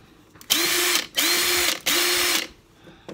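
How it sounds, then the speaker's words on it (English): A new Ryobi 3-speed impact driver runs at full throttle in three loud, even bursts of high whirring motor noise, each around half a second long, separated by brief pauses. "Now let's do full throttle on the new one."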